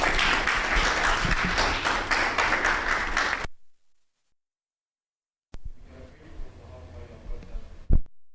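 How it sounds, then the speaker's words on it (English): An audience at a pension plan open forum event applauds in a dense burst of clapping for a few seconds, then falls silent before a person speaks. "A round of applause for him, please."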